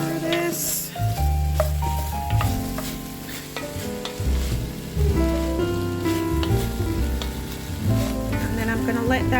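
Cabbage and zucchini sizzle in a minestrone soup pot while being stirred, giving a steady close frying crackle. A spoon scrapes and clinks through it at intervals, and background music plays over the whole stretch.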